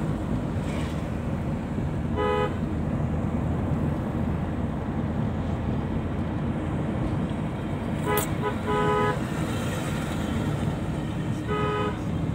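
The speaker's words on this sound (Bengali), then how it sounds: "হরণ বাজা" A car horn gives several short beeps in distinct groups over steady traffic and engine noise during a manual-gearbox driving lesson at a motor driving training centre, with no speech.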